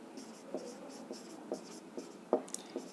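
Chalk or marker strokes on a board during a Class XII physics lecture on dielectrics, a steady run of short scratchy taps and squeaks with no talking over them.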